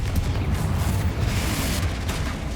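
Fiery Confringo blast spell from Hogwarts Legacy, a dense rumbling roar of explosions that fills the whole stretch at steady loudness, booming and close with no pause.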